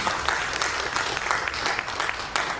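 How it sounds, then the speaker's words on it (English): Loud, dense applause from a school graduation audience after a speech, a thick steady roar of many hands clapping without a break. "Give me a round of applause again if you enjoyed that speech."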